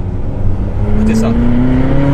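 A Ferrari engine revs up with a rising, strained tone that climbs steadily over two seconds, loud and close, with a voice briefly heard over it.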